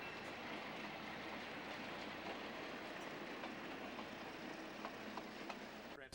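Napa Valley wine train running on rails through wine country between Napa and St. Helena; a steady, faint rumble of wheels on track with a soft rhythmic clatter, continuing without speech.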